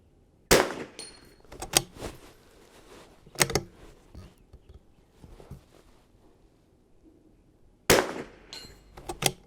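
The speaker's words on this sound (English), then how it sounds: "The JC steel targets make a nice sound with Rimfire." Rimfire rifle shots from a CZ 455 ring off JC steel targets at an outdoor range: a few sharp, loud cracks spaced several seconds apart, each followed by a short metallic clang, with quiet handling noise in between.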